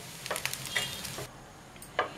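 Dry prawns frying in oil give a faint, soft sizzle broken by several sharp scrapes and clinks of stirring close by, with a short quiet gap before a final scrape.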